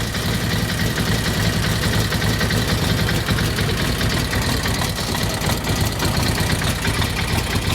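A cold Brough Superior SS80 motorcycle engine idles steadily at low revs just after the choke is switched off, a dense, constant close-up rumble with no voices and nothing else over it.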